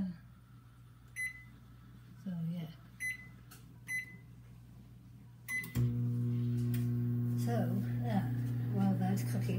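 A steady low electronic hum from a microwave oven starts after several short beeps and clicks, running continuously with a faint mechanical whir, close by.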